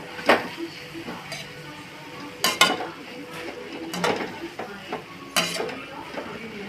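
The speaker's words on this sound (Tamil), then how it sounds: "அரைச்சி வச்ச இந்த பேஸ்ட்டு போட்டுட்டு நல்லா கலரி விட வேண்டியதான்" Ground paste stirred into vegetables in a pan for homemade vegetable noodles, with scraping spoon strokes and metallic clinks against the pan over a soft sizzle, irregular and fairly quiet.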